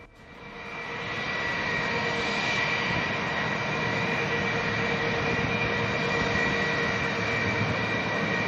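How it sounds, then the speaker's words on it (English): Steady, loud roar of a single-seat twin-engine stealth multi-role fighter jet, a continuous broadband rumble that swells in the first second and then holds constant, with no speech over it. "a single-seat twin-engine stealth multi-role fighter aircraft, features superior stealth performance, short-distance takeoff and landing capability, and supersonic cruising"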